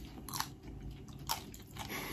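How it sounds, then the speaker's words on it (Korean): Crisp, crunchy bites and chewing sound up close, a few distinct crunches in quick succession of baked pasta-shaped snacks, with no talking. "아삭아삭 소리 들리시나요?"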